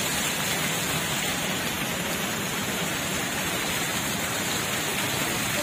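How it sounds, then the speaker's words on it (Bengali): Rain pouring down outdoors, a steady broadband hiss of drops on surfaces that stays even and loud throughout, with no voices. "বৃষ্টি করছে"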